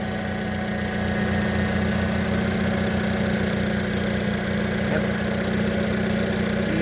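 A warm Chevrolet S10 pickup engine runs at a steady idle, recorded up close with a loud, even rumble and constant mechanical hum.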